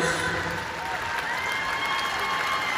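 An awards show audience applauding the singer of the year at the Song of the Year ceremony: dense, steady clapping and cheering from a large crowd filling the hall, with a voice speaking over it.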